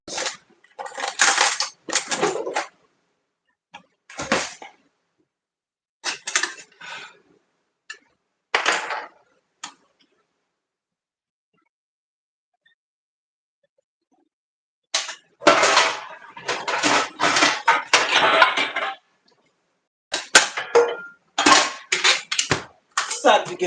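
A bigger pan being handled while vegetables are sautéed in a home kitchen: intermittent bursts of clattering metal and rattling cookware, close and fairly loud, broken by a long quiet stretch midway.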